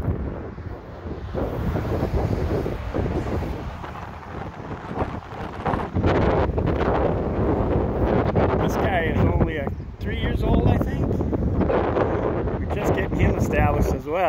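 Wind gusting through a spring garden with redbud trees in bloom, a loud steady rush that swells and buffets the microphone throughout, with a voice talking over it.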